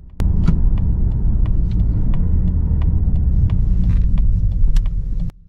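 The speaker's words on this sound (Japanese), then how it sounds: "シフトダウンだ。" Mazda 3 Fastback car downshifting as it drives a slow practice course, a sudden loud engine and exhaust roar that holds steady for about five seconds, then cuts off.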